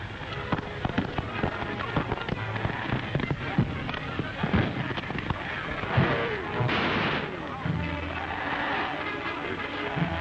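Rifle gunfire in an old radio serial drama: repeated sharp shots and crackling bursts in a dense, busy scene, with voices faintly mixed under the noise.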